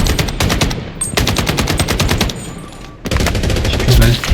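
An RPK machine gun firing in the Blood Strike video game, with loud, rapid sustained bursts of automatic fire and a short pause before another long burst.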